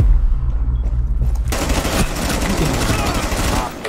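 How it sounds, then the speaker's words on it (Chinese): Rapid automatic gunfire in the tactical shooter Rainbow Six, loud and close, bursting in dense volleys after a brief quieter start, with a player's voice talking over part of it. "谁对我开枪？"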